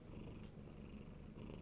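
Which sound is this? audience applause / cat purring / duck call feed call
cat purring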